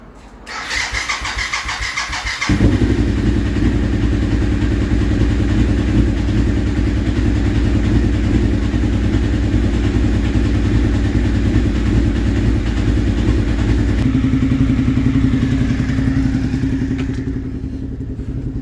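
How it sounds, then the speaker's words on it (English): An SV1000 motorcycle engine, not started in a couple of weeks, cranks briefly, then fires up and settles into a loud, steady rumbling idle close by with no one talking. "I haven't started this bike in a couple weeks, so Bear with me. Hopefully she starts."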